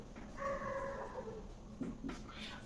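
Dogs barking outdoors late at night, heard faintly and at a distance as a few thin, drawn-out yelps and whines over steady low background noise.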